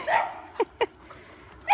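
Dog at play, a few short yips and barks spread across a brief moment, close and fairly loud, with quiet gaps between them.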